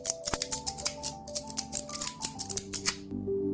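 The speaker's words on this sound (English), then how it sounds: "You can hear it's a kind of rustling sound of pushing the tiles, along with the sound of the magnets hitting the cover" Y-YEDC Heart fidget slider being played: tiles pushed along with a dry rustling scrape and quick sharp clicks of magnets hitting the cover, a close, steady run of small taps.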